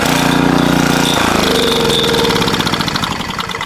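A small Pramac GC160 generator with a Honda engine runs loud and close, its steady mid-pitched putter slowly easing and growing uneven toward the end, with no voices over it.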